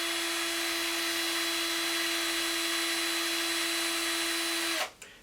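A power drill twisting fishing line whines steadily at close range with a constant high motor tone, then abruptly winds down and stops near the end.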